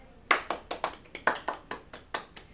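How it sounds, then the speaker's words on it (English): Applause at a meeting after a bus service announcement: about a dozen crisp, fairly close hand claps in a steady, evenly spaced rhythm, like a small group clapping. "applause!"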